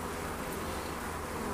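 Dense, steady buzzing of many honeybees in an open hive colony, a close, continuous droning hum with no breaks and no talk.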